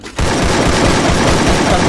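Sustained automatic gunfire in Garena Free Fire, a loud rapid burst of shots starting after a brief pause and hammering on steadily to the end.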